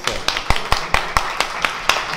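Scattered hand claps at a squash match at the Rio Squash Open, roughly nine sharp claps at an uneven pace, close and fairly loud, as a small crowd applauds a hard-fought rally.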